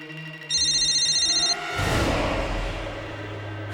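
A telephone rings in a domestic setting: a bright electronic ringtone pulses steadily for about a second, then cuts off into a swell of dramatic background music.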